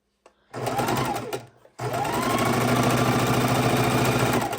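A sewing machine runs in two bursts while stitching jelly roll quilt strips together, a steady close mechanical whir with a brief pause before the second, longer run.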